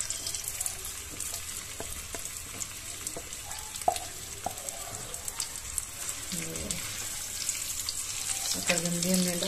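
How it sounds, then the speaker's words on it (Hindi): Mashed sweet potato (shakarkandi) frying in ghee for sweet potato halwa, with a steady close sizzle, scattered clicks of stirring and a brief watery gurgle near the end. "अब घी में डाल देंगे हम अपनी जो हमें शकरकंदी मैश की थी"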